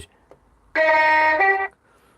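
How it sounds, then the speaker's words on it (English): A model railway train hooter sounds once, close and loud, as a single harmonic honk lasting about a second with a slight pitch drop near the end. "That's the old hooter."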